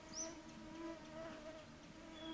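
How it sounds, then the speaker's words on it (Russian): Mosquitoes whine in a thin, steady, faint hum beside a northern river, with higher buzzing passes drifting near and away over quiet outdoor background. "Комара гул стоит"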